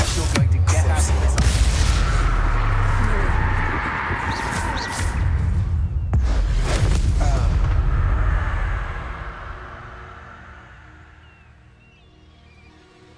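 Confringo blasting spells explode in Hogwarts Legacy, loud booming bursts at about 0 and 6 seconds over a dense rumbling game soundscape that fades toward the end.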